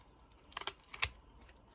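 A corner punch snips the corners of altered playing cards, producing a few quiet, sharp clicks and snaps close by, with the loudest cut near the middle.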